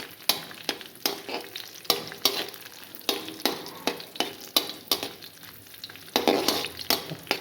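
Fennel seeds and garlic fry in hot oil for an egg curry, sizzling steadily while a spoon repeatedly stirs and scrapes the pan in sharp, irregular knocks, close and fairly quiet.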